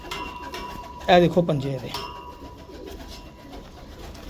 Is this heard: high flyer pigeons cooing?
yes